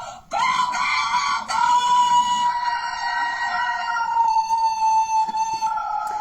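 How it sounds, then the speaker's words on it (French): A pet rooster crows in one long, sustained, loud call, with a brief break before the call carries on, heard close and with no talk over it. "Voilà mon coq"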